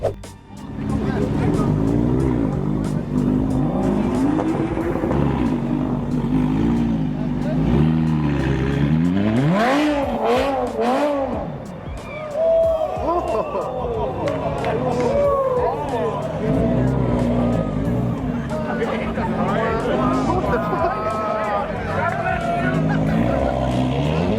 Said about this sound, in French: Le conducteur d'une Lamborghini a voulu démarrer à toute vitesse pour montrer à quel point son moteur était puissant